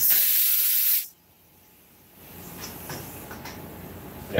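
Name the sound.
spraying glue from a spray can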